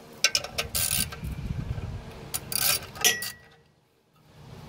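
Metal bolts are threaded and tightened with a wrench onto a car clutch pressure plate, giving a run of close ratcheting clicks and clinks through the first few seconds, then a brief quiet pause at the end.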